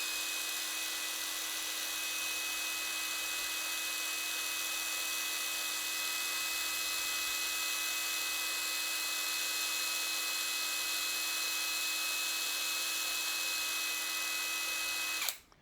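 Cordless Raitool impact wrench rated at 4,200 RPM running free at high speed, a steady high-pitched motor whine with strong tonal harmonics held for about fifteen seconds before stopping.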